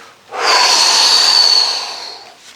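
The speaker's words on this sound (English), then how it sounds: "Remember to breathe. You want to exhale on the stretch." A single long, breathy exhale is pushed out during a leg stretch in a movement session, loud and close, rising sharply and trailing off after about two seconds.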